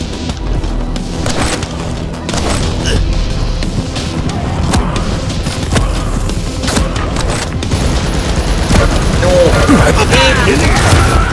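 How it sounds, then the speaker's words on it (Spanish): Rapid machine-gun fire in the shooter game Quake rattles in dense, continuous bursts, loud and close, mixed with clanking game effects. "La ametralladora."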